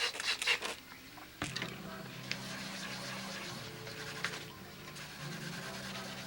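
Fine 1200-grit sandpaper rubs across a surface, with soft repeated scratchy strokes close up and a quieter steady rasp continuing under faint background noise.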